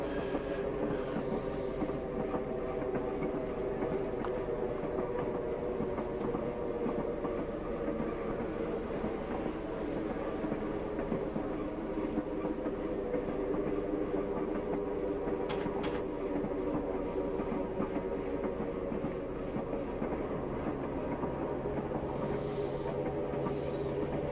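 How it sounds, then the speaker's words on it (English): A Class 111 diesel multiple unit in Train Simulator Classic drones with a steady, rumbling engine note and a continuous rolling rail noise, constant in level throughout. "The engine is not the fastest to kick in."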